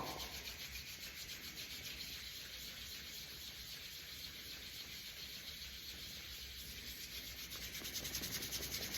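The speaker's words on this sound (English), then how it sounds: "So I do start most of my practices this way, rubbing between the fingers. We're going to rub the whole palm." Palms and fingers rubbed together in a continuous soft, hissy friction sound, steady and close, quiet overall with a slight quickening near the end and no talk.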